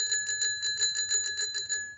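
Handlebar bell on a toy motorcycle-shaped rocking horse rung rapidly about a dozen times in a steady, bright, metallic trill, close and clear with nothing else around it.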